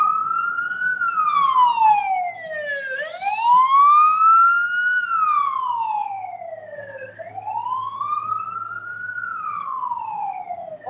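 An ambulance siren wails through a large street march in Melbourne, its tone sweeping slowly up and down in long repeated cycles, loud and close over a faint background hum.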